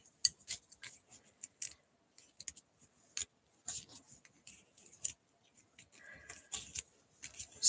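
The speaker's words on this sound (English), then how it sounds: "we're just going to use some old scissors." Old scissors snip through paper in a crafting session, sharp irregular clicks and short cuts scattered across several seconds, close and fairly faint against near silence.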